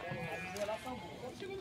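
Sheep bleat at a busy livestock market in Paraíba, Brazil, with wavering calls rising over a crowd of people talking nearby.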